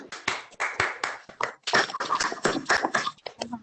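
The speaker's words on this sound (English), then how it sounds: "join us for a round of applause" A round of applause over a video call at a graduation ceremony, heard as uneven, clipped bursts of clapping from a few people, close and choppy with brief gaps.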